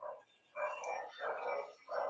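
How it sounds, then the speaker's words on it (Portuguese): Dogs bark in the background behind a person indoors, a run of four rhythmic yapping barks, moderately faint and slightly distant. "Cachorros."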